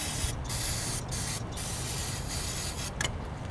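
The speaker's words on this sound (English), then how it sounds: "Spray some carb cleaner" Carb cleaner sprayed into the engine of a 1965 Mercury Marauder, a close, loud aerosol hiss in several sustained bursts with brief gaps between them.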